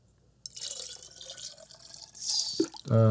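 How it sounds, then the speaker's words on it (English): Water poured into a batch of blood orange wine must, a steady trickling splash that builds and ends with a louder, fuller gush of liquid. "Add more water."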